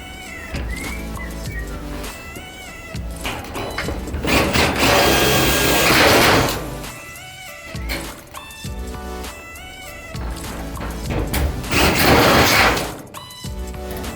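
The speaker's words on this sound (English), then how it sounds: "I'm going to show you guys from the back what that looks like as you drill through" A power drill bores out a pop rivet in bursts, whining and grinding loudly for several seconds at a time with brief pauses and quieter stretches between runs, close up.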